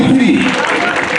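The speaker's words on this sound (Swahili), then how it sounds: "Pigia Yesu makofi sasa." A church congregation at a celebration for a patriarch claps together in a dense burst of applause, with a voice speaking over the clapping.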